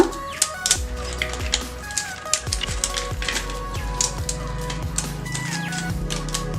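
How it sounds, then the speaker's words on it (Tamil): Crispy fried ribbon pakoda is snapped apart by hand, making a rapid run of sharp, brittle crunches and clicks close up, with a steady hum underneath. "உங்களுக்கு ரிப்பன் நான் உடச்சி காட்டுறேன்."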